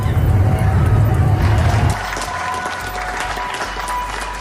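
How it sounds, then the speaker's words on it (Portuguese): Crowd applause for health professionals, loud dense clapping with cheering for the first two seconds, then an abrupt cut to a quieter stretch of scattered clapping over a low rumble of outdoor background noise. "Profissionais de saúde são aplaudidos pelo mundo."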